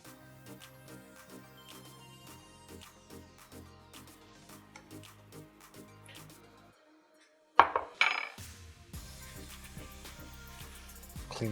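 Tortellini and Italian sausage soup is ladled into a bowl with scattered clinks and clatters of metal against pot and dish, near and fairly soft, over faint background music.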